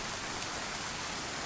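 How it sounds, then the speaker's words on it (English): Steady rain falls in DayZ, a dense, even hiss of drops on surfaces with no breaks, moderately loud and with no voices. "here comes the rain"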